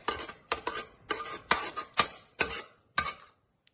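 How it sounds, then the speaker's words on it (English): A spoon stirs freshly brewing tea in a cup, giving about seven crisp, close clinks at a steady half-second rhythm before stopping, with no talking. "just give it a little bit of a stir around"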